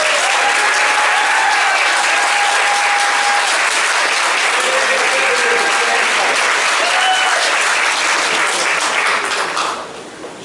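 A large debate audience in Miami applauds a moderator, dense continuous clapping at full strength for about ten seconds before quickly fading out, with a few voices briefly audible within it.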